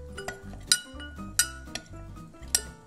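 A spoon stirring a homemade snow mixture in a bowl during a kids' science experiment, with sharp clinks against the container roughly every half to two-thirds of a second and a soft scraping between them.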